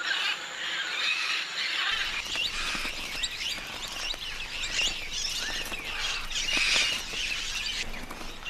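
Flock of parrots eating salty clay on a riverbank, a dense, continuous chorus of high squeals and squawks at moderate distance, with no clear pauses.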